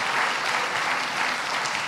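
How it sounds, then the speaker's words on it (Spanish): A church congregation claps in welcome during a Spanish-language service, a steady, dense round of applause that fills the room evenly from start to finish with no voices on top. "Vamos a aplaudirle a los que nos acompañan"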